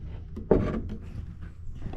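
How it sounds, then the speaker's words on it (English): Secret wooden door latch in a rebuilt log barn being worked, one sharp woody clack followed by faint rubbing and knocking, close and alone. "tell nobody about my secret door latch back here"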